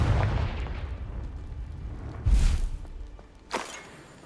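Explosions from the Confringo spell in the game Hogwarts Legacy, a low boom at the start followed by two sharper blasts, the second one shorter and brighter.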